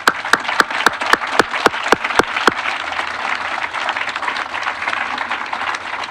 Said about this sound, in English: I just want to give them a round of applause for their input.